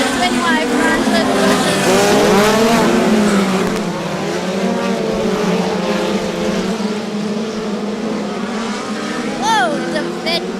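Race cars roar around an oval track and slide sideways through the corners. Several engines rise and fall, rasping loudly up close, with passing tones sweeping by, and a commentator talks over the racing throughout.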